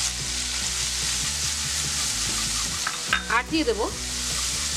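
Chili paste with turmeric fries in hot oil, a continuous close sizzle with rhythmic scraping from stirring, while someone speaks briefly near the end.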